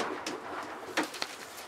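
Marathon-strain racing pigeons kept for sale give a few soft, low coos close by, with faint rustling in between; no one speaks.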